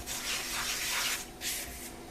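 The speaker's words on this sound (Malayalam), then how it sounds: "അരിപ്പേ കൂടെ ഒന്ന് സീവ് ചെയ്തെടുക്കണം" Dry cake ingredients for a Black Forest cake are sieved, giving a soft, continuous rubbing and sifting rasp in uneven swells, close and alone.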